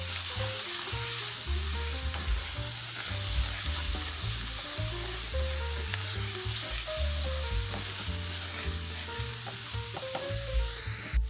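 Ingredients for a cabbage dish are stirred in a hot pan, giving a continuous close sizzle and frying hiss with scraping stir sounds, steady throughout, while background music plays and no one speaks.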